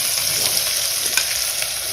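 Onion and spices frying in a pan for kanda paat zunka, a steady close sizzle with crackling and occasional stirring scrapes, no voices.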